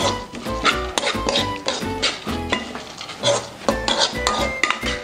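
Roasted sunflower seeds scraped and tipped from a pan into a bowl, with repeated close metallic clinks and scrapes of a spoon against cookware, a light rattle of seeds and faint sizzle underneath.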